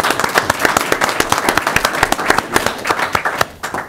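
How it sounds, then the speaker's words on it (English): A school board work-session audience applauds students and their families with steady, dense clapping throughout, close and fairly loud, easing slightly at the very end. "let's give them a round of applause as well"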